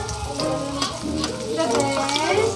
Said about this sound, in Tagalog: tumatagsik yung mantika